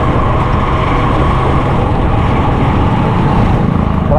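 Steady, loud road traffic rumble on a Philippine street under repair, a dense continuous wash of engines and tyres with no breaks and no voices.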